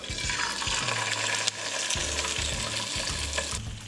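Striper fish fillets fry in hot olive oil in a skillet, a close, steady sizzle and crackle with occasional low bumps and scrapes from the pan.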